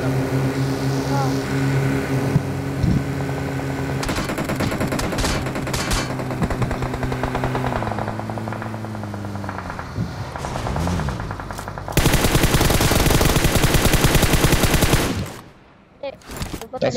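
Sustained automatic gunfire in PUBG Mobile, rapid dense bursts with a loud continuous volley late on, set against engine drone and players talking.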